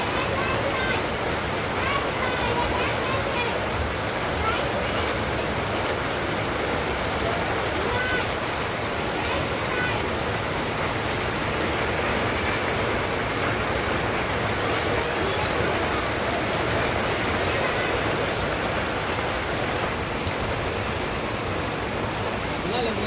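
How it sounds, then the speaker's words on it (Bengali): Rain falls steadily on a Bangladeshi village in a continuous loud wash of drops on surfaces, unchanging throughout, with no talking. "এত সুন্দর বৃষ্টি নামছে"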